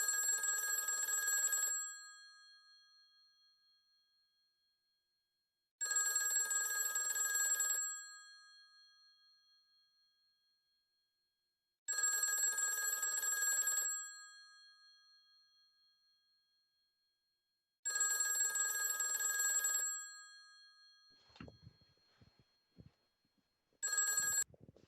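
Telephone ringing in a repeating pattern of four bright electronic bursts, evenly spaced, each lasting about two seconds with a fading tail, then a handset being picked up and brief handling noise.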